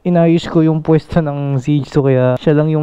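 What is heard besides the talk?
No everyday noises stand out.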